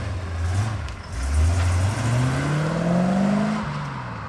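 A C4 Corvette pulls away and accelerates, its engine note climbing steadily through the gears, loud and close at first and then easing as the car drives off.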